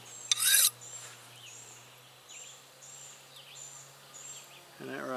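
Sharpening stone or file drawn along a kukri-style blade in repeated strokes, a series of faint, evenly paced raspy swipes after a brief loud scrape, close by with no voices.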